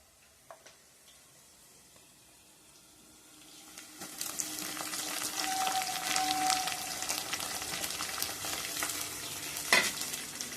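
Onions and dried mutton pieces for a village-style gongura dry mutton curry fry in a pan. After a few quiet seconds, a moderate sizzle starts up, with scraping stirs and an occasional clink.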